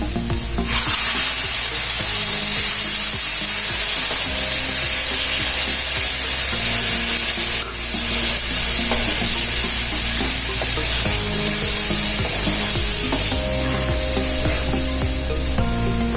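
Tomato puree poured into golden brown fried onions in a hot pan for tomato bhurji, a loud, steady close-up sizzle and frying hiss with occasional stirring, no talking.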